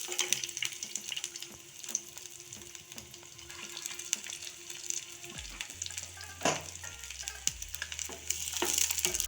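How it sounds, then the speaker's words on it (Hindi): Cumin seeds and chopped garlic frying in hot oil for a dhaba-style lasooni palak, giving a steady close sizzle and crackle with occasional stirring clinks and scrapes and no talking. "लहसुन को क्रिस्पी होने तक फ्राई कर लेंगे"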